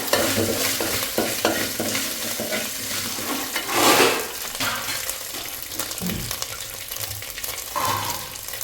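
Ginger garlic paste fries and sizzles in a pan for paneer bhurji, with steady crackling, repeated stirring scrapes and a brief louder sizzle burst partway through, all close and with no voices.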